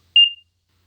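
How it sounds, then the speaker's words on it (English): A solar-powered wireless infrared alarm system gives a single short, sharp, high-pitched beep that fades quickly, loud and close, followed by silence. "let's say the alarm has started now, it's making a lot of noise."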